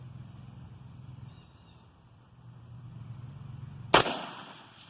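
A single regular round fired through a block at a shooting range, one sharp loud crack after a few seconds of low hum and background noise, with a short decaying tail.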